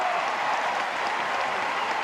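A baseball crowd at an NCAA Baseball Championship game between Louisville and Miami applauds and cheers after a go-ahead base hit, a steady, dense wash of clapping and roar held at even loudness throughout.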